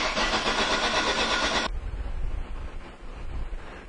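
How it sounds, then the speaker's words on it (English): A 2002 Ford Focus engine is cranked over. A bright hiss cuts off abruptly, leaving a low, rumbling churn of the starter turning the engine, faint and steady. "let's crank this thing over and look at the relative compression pattern"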